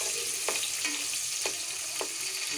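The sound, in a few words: onion frying in hot oil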